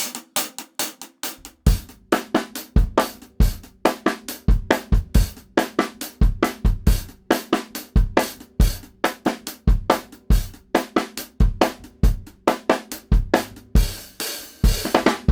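A fast, driving drum kit beat with steady kick, snare backbeats and busy hi-hats, played loud and close without any talking.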